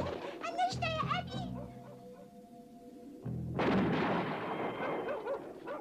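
After high bird-like calls and a quiet stretch, a single loud gunshot bursts out and leaves a lingering noisy rumble.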